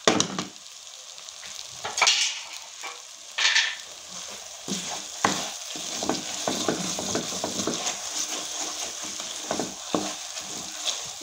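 Raisins and almonds tossed into frying egg and semolina halwa sizzle in hot fat, with stirring scrapes and a few sharp spatters over a steady crackling hiss.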